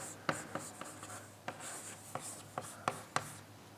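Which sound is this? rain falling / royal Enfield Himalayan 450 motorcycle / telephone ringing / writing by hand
writing by hand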